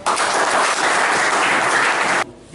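An audience breaks into dense, loud applause that fills the room for about two seconds and then stops abruptly.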